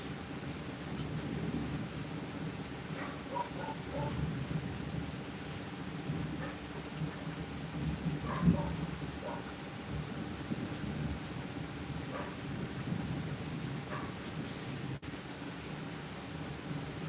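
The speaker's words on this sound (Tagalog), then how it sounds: "malakas ang ulan." Heavy rain pours steadily with rolling thunder, a louder rumble near the middle, forming a continuous wet roar with no voices.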